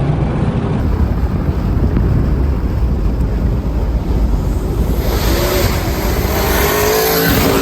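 A cammed twin-turbo Ford GT500 at around 9,000 RPM roars past on a Florida street, a loud continuous engine and wind rush with no clear break, peaking and then receding toward the end.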